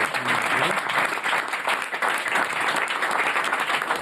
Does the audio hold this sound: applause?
yes